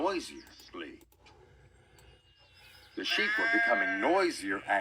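Sheep bleat in wavering cries, a few near and loud, mixed with talking voices; one bleat may be a voice imitating the animal.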